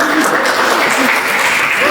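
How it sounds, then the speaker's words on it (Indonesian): Students in a primary school science lesson give a burst of applause at the teacher's request, a close, steady clatter of clapping lasting about two seconds with faint voices mixed in. "Tepuk tangan dulu dong."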